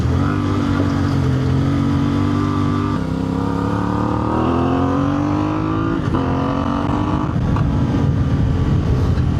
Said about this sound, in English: one thing you will notice too is that there's a fair bit of popping.